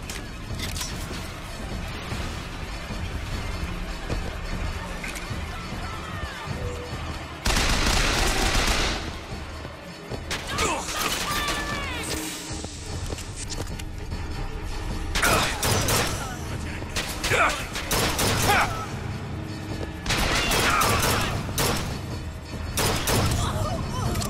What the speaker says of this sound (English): Alright, machine gun time.